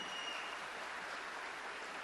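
Audience applause at a church-style gathering, a faint, steady wash of clapping from a distance lasting about two seconds.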